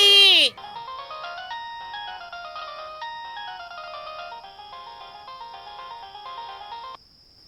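A mobile phone ringtone plays a loud, clear electronic melody for about six seconds, opening with a brief burst of another sound before the tune repeats steadily and then stops.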